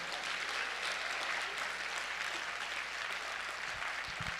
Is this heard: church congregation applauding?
yes